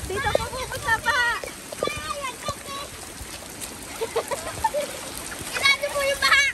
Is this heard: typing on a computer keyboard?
no